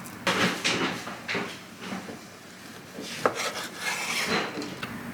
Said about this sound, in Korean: 그래서 알맞게 잘라줄게요. 한 입 크기로 먹을 수 있도록.